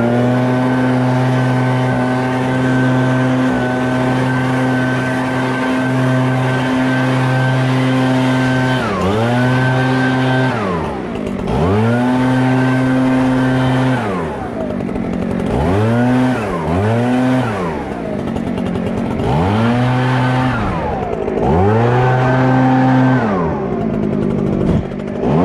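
A gas-powered blower clearing debris off mowers: a loud, close engine drone that holds steady, then revs up and down repeatedly in surging bursts with a buzzing, harmonic tone.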